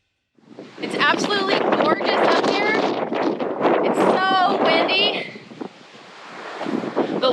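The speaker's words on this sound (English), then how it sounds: "It's so windy." Strong wind gusts across a hilltop in Ireland, a steady loud rush buffeting the microphone with speech layered over much of it before easing toward the end.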